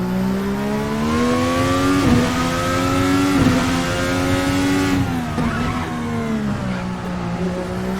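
Formula NA 2021 Indy car engine in the VRC racing simulator, a loud, close, continuous high-pitched roar that rises and dips with gear changes and braking over several seconds, with no voices.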